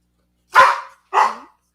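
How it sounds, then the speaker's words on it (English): A dog gives two loud, sharp barks right beside the listener indoors, each short and clipped, separated by a brief pause and otherwise silent. "My dog just went very, very loud right next to my head."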